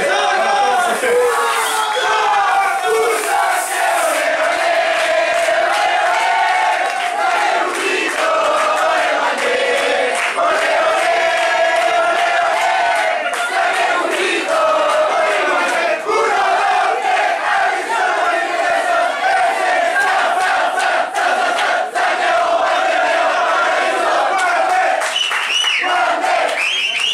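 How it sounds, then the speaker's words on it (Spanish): At a Santiago Wanderers football shirt launch event, a large crowd of fans chants and cheers loudly in unison, a dense, sustained roar of voices with rhythmic claps throughout. "Un aplauso entonces para todos ustedes."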